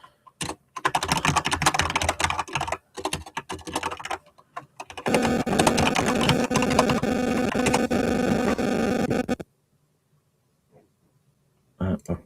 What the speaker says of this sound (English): I have to type it in here.